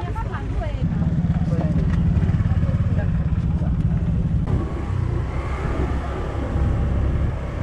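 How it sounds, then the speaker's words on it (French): Rented motorcycles ride toward Mangonpola village on Mentawai, a steady engine drone running throughout with a gear or throttle shift midway, close and fairly loud. "on a de suite loué des motos pour se diriger vers le village de Mangonpola, retrouver Pamaron"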